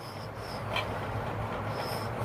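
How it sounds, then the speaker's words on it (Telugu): A train rumbles steadily along the rails with a faint squeal of wheels, a continuous low mechanical drone, climbing slowly through winding ghat sections on the Araku mountain railway. "ఈ ఘాట్ ఎక్కిన తర్వాత అసలు చాలా స్లోగా వెళ్తుంది ట్రైన్"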